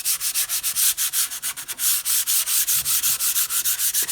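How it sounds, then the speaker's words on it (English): Wood surface being lightly sanded by hand with 220 grit sandpaper before staining, a steady run of quick, close back-and-forth scratchy strokes, alone with no talk. "I'm going to take some 220 grit sandpaper and just going to very lightly sand the surface"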